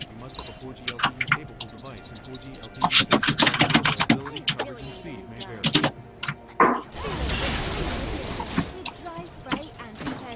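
Keys clatter in quick uneven bursts on a computer keyboard picked up by an open mic during a League of Legends club stream, fairly close and mixed with talking, followed by a burst of broadband noise.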